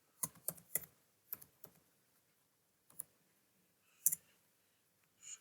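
Code typed on a computer keyboard: sparse, close key clicks in short clusters separated by quiet pauses, with no voice over them.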